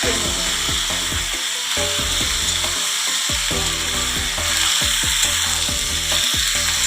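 Mixed vegetables hit hot oil tempered with bay leaf, dried chili and panch phoron, setting off a loud, continuous sizzle with a steady hiss and repeated clicking stirs close by.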